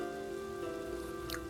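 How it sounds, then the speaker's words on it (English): Gentle rain falling as a soft, even patter of drops on a surface, steady and continuous throughout with a constant low hum underneath and no voices. "Today we have warmer, heavy clouds and gentle rain."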